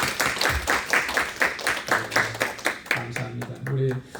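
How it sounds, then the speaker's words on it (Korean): Church congregation clapping to welcome visitors at a service, with irregular clapping from a modest group that runs under speech, as a voice talks through much of it. "잠깐만 일어나 주시면 박수로 환영하겠습니다."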